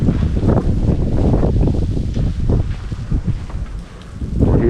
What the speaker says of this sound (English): You see this moving, how windy it is.